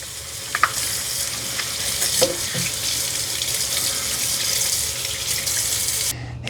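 Running tap water pours steadily over a Dyson 360 Vis Nav robot vacuum part as it is rinsed in a sink, a continuous close hiss with small clatters of handling and a brief bump near the end.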